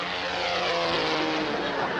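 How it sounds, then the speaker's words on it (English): A propeller airplane engine drones as the aircraft flies past, a loud, steady roar over the whole brief stretch in a radio comedy sound effect. "He's always going someplace in an airplane."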